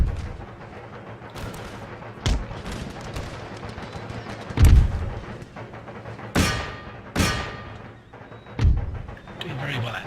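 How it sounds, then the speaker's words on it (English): Artillery volleys in the Empire: Total War strategy game boom out as several sharp, loud blasts at irregular intervals over a steady rumble of battle noise. "Let's keep the artillery firing on them."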